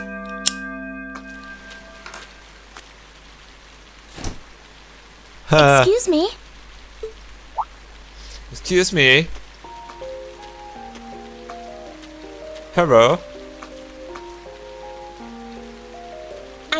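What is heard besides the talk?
rain in the video game Trails of Cold Steel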